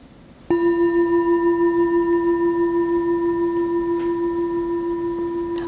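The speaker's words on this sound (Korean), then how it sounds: "아까 기계 싱잉볼을 들었을 때와 핸드메이드의 울림이 약간 다른 것 같아요" A handmade metal singing bowl is struck once and rings on with a pure, sustained tone that slowly wavers and shimmers.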